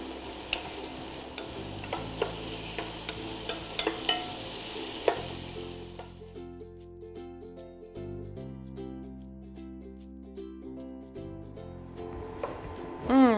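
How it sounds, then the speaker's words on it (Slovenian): Onion frying in about 50 grams of butter in a pan, a soft sizzle with repeated stirring scrapes and clinks from a spoon, while someone speaks through parts of it. "Pražili jo bomo na maslu."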